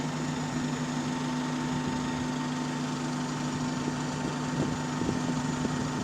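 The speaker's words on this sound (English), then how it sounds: "Because you can tell with how the thing revs what gear it's in." Bus engine with a Voith automatic gearbox, running steadily with a constant drone and a couple of tonal hums, a few faint knocks near the end as it shifts between gears; close and continuous, no talk.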